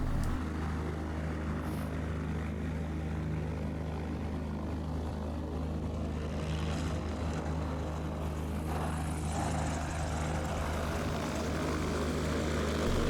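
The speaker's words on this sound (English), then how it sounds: "Here is my friend Jughead landing a gravel bar in the Scenic River." A small propeller plane drones steadily throughout, its engine hum constant and fairly close, with a faint shift in pitch partway through as it comes in to land on a river gravel bar.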